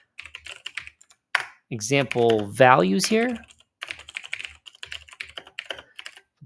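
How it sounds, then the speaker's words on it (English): Typing on a computer keyboard: quick clusters of light plastic key clicks, some alone and some under someone talking. "So let me just go ahead and start typing this in."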